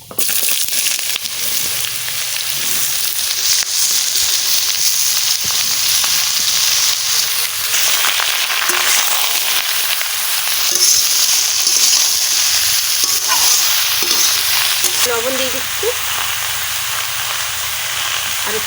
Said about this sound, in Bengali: এবারে আবার তেল দিয়ে দিচ্ছি সর্ষে দিয়ে দিচ্ছি দুটো তেজপাতা দিয়ে দিচ্ছি বন্ধুরা লাউ দিয়ে দিচ্ছি